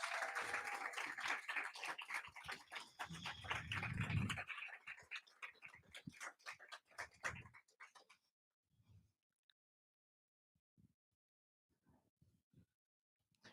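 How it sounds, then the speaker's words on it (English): Audience clapping for a person called to the stage at a closing ceremony, fairly loud at first and then thinning out to a few scattered claps before near silence. "Round of applause for Hector."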